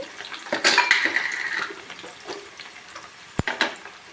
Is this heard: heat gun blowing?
no